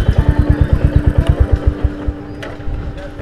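A 350cc motorcycle fitted with an aftermarket silencer imported from India idles close by with a loud, rhythmic thumping exhaust beat that softens and grows uneven toward the end.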